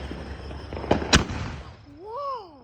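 Fourth of July fireworks go off outdoors near a house, a rumbling crackle with two sharp bursts close together, followed by a rising and falling whistle.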